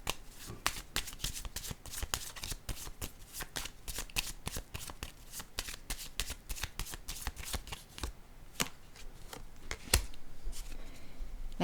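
Tarot cards being shuffled by hand during a card reading, a long run of quick close riffling flicks and slaps with a few sharper snaps, no talking over it.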